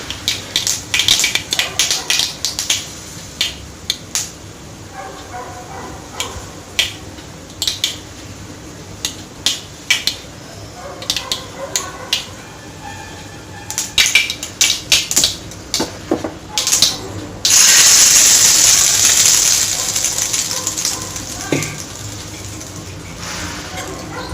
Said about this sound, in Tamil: இப்போ எடுத்து இதை சட்னியில் தாளித்து கொட்டிடலாம்